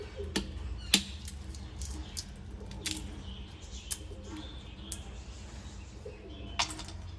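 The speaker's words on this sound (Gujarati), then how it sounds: "સામે પોપટ બોલે છે ને એટલો અવાજ આવે છે ને" Scattered parrot calls ring out over a low steady rumble, with a few sharp, brief chirps and squawks standing out at irregular intervals.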